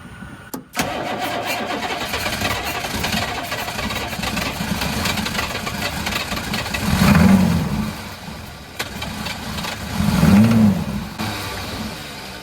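A 1983 Chevrolet Squarebody with a 6.2 diesel cranks over and catches, then settles into a rough, clattering idle, with two throttle blips that swell the rumble before it drops back. No one speaks.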